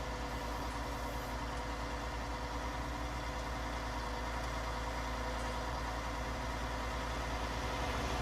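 A John Deere 9RX tractor engine from the Farming Simulator 19 video game idles in a steady, even drone that runs throughout at a constant moderate level, with no talk over it.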